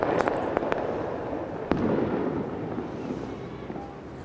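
Lookouts set off warning fireworks in a Rio favela, several sharp cracks and pops in the first two seconds, distant and echoing, over a rumbling background that fades.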